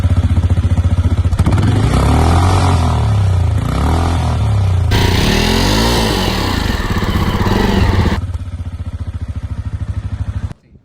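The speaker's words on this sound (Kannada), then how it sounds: "ವಿಂಟೇಜ್ ಲುಕ್ಸ್ ಇರೋ ಈ ಬೈಕಿಂದ ಎಕ್ಸಾಸ್ಟ್ ನೋಟ್ ಕೇಳೋಣ ಬನ್ನಿ ಈಗ" Exhaust note of a Benelli Imperial 400 retro classic motorcycle, a loud, close single-cylinder thump at idle that rises into a couple of blips and a sustained rev before dropping back and shutting off.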